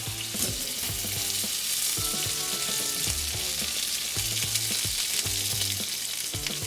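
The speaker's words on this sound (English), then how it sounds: "take your pork. Just give it a nice quick sear on each side." A brined, dried pork loin sears in a hot pan, a steady bright sizzle running throughout with a rhythmic musical backing underneath.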